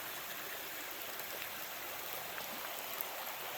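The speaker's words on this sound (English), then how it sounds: "I had no idea there were water crossings with tiny rapids" Water rushes and gurgles steadily over small rapids in Cane Creek in the Smoky Mountains, a soft continuous babble with no voices.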